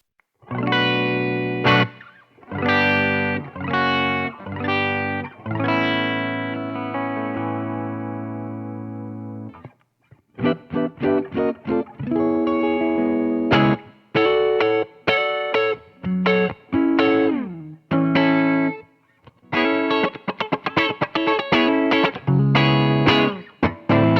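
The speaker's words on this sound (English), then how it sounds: "let's listen to the basic tones of the guitar first" Electric guitar played through an amplifier with a microphone on the amp, clean basic tone, with strummed chords and single-note phrases, loud and alone with short gaps between passages.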